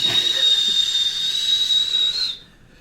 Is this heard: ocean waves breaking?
no